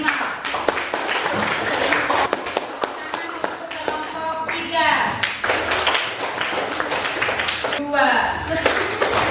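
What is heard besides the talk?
children clapping for groups in class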